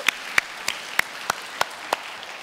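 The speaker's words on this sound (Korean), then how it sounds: "우리 박수 한번 할까요?" A church congregation claps in slow, evenly spaced unison beats, about seven sharp claps over two seconds with quiet between them, close and clear.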